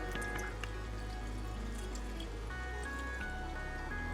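Water trickles and drips steadily into a car's intercooler on a Mustang, with a low mechanical hum running underneath.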